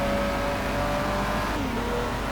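A heavy four-door British saloon car from GT Legends accelerates steadily, its engine note rising in a loud, continuous drone before a brief shift drops the pitch; no voices.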